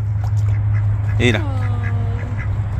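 Duck released at a park in Yakima, Washington, giving a short quack-like call over a steady low hum, with people talking nearby.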